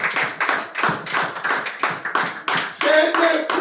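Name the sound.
congregation applauding for Jesus in church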